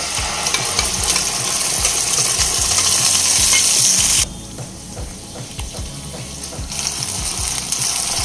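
Roasted spice paste is stirred in hot oil over a high flame, giving a loud continuous sizzle with scraping strokes that drops to a quieter fry midway and then swells again.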